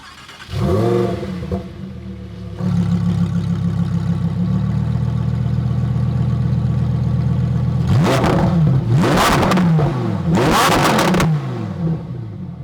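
A Lamborghini with full carbon fiber bodywork idles with a deep steady rumble, then its engine is blipped in several sharp, loud revs that climb and fall back near the end, close up.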